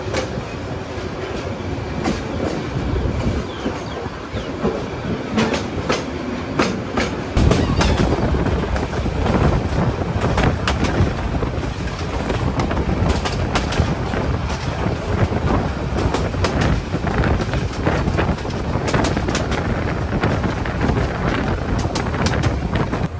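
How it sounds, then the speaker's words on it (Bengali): The Korotoa Express, just departed Patgram station in Bangladesh, rumbles along the rails from inside the carriage with steady clatter and heavy wind buffeting. It grows louder and denser after the first few seconds and stays loud and continuous. "আমাদের ট্রেন ছেড়ে দিল পাটগ্রাম স্টেশন থেকে"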